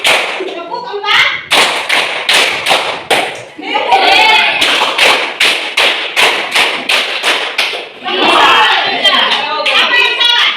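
A classroom of children claps a counted rhythm pattern together, with loud, sharp clap bursts in repeated groups and brief pauses between them, and voices chanting the count in the gaps.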